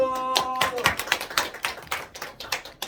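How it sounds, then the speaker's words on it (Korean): Scattered, uneven claps from a small group at a Korean Memorial Day ceremony, sharp and close, following a brief tone at the start, with the clapping thinning toward the end. "자, 우리 박수 칩니다. 박수."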